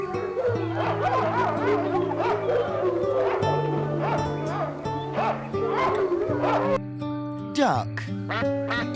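A dog barks and howls over steady background music, the calls coming in irregular bursts throughout.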